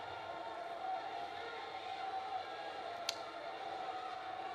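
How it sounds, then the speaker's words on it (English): A crowd at a state wrestling championship match roars steadily, a faint, distant wash of cheering with one brief sharp peak. "Listen to that crowd, man."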